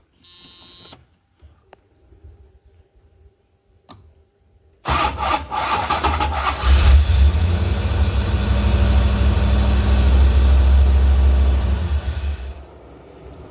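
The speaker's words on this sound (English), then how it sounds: "I'm gonna fire it up and see how that new starter does." A hot car engine, just back from a test drive, cranks briefly on a newly fitted starter motor and catches. It then settles into a steady, loud rumbling idle for several seconds before cutting off.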